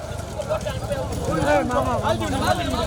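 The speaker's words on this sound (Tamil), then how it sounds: "மாடு வருது இழுத்து பிடிச்சாப்பா" Bulls pull a racing cart in a rekla bullock-cart race at Chinna Ovalapuram, their hooves clattering steadily beneath loud, continuous shouting and commentary from people nearby.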